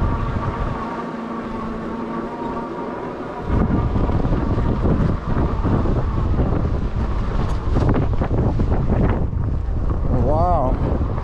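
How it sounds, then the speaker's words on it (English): Strong wind buffets a GoPro microphone while riding a Dirwin Pioneer all-terrain e-bike off road in the mountains, a loud continuous roar that surges to full force partway through, with talk underneath. "Very strong wind over there."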